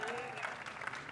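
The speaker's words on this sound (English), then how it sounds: "we can clap for that" An audience at an outdoor handprint and footprint ceremony applauds, a steady wash of many hands clapping at moderate distance with a faint voice underneath.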